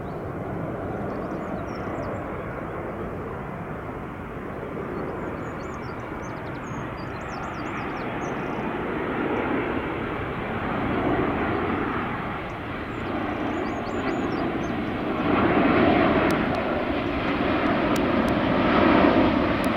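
An airplane coming in to land near a public footpath at Hampton in Arden roars steadily overhead, its engine noise swelling louder toward the end as it passes close by.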